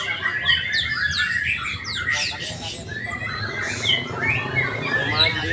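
A white-rumped shama (murai batu) at a bird-singing contest, with varied whistled phrases and chirps mixed among other competing birds, set against busy crowd background noise.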